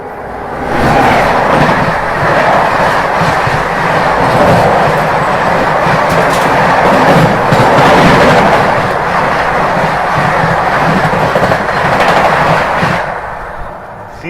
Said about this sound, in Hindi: ये जो भी क्रॉस हुई ये थी आपकी कोणार्क एक्सप्रेस